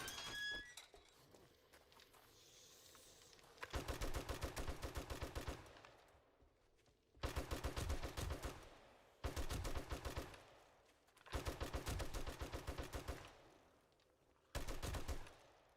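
An M60 machine gun fires 7.62 AP ammo in the game 7 Days to Die, several loud sustained bursts of rapid automatic fire separated by short pauses.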